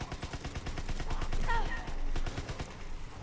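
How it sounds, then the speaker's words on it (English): A grease gun fires in Call of Duty WW2 Zombies, a rapid steady burst of close automatic shots running for several seconds. "The grease gun."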